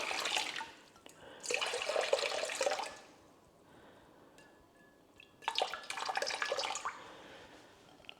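Warm water poured for fruit loaf bread dough, two separate bursts of splashing and trickling, each roughly one and a half seconds long, with quiet kitchen background between them.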